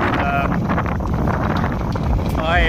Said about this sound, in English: Out here in the Shire, it's been very, very, very windy all night.